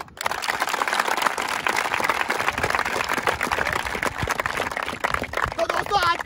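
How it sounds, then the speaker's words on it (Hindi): Loud, dense applause from a group of army recruits, steady clapping close by that swells and holds for several seconds. "जोरदार तालियां।"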